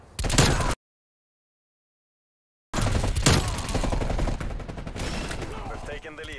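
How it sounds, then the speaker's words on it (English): Stun grenade and gunfire in a Black Ops Cold War multiplayer match: a sharp burst, then a moment of total silence, then dense, sustained rapid shooting with impacts. "stun grenade out."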